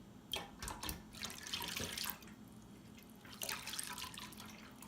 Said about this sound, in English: we're going to add the honey, garlic, and apple cider vinegar to the concentrates and the